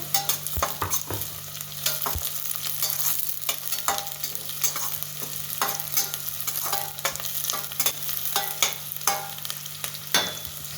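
Green chilies and browned onions fry in a pan for veg pulao, a steady sizzle broken by repeated close scraping strokes as a spoon stirs them, with no talking.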